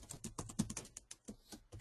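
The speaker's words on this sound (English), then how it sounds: "oh, where am I typing?" Rapid typing on a computer keyboard, with quick uneven bursts of crisp key clicks and short pauses, close and fairly quiet, and no voices.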